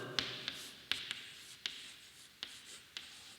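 Pen or marker writing out a definition in a math lesson on sets and intervals: a run of short scratchy strokes with crisp taps, close and fairly quiet, with no talking.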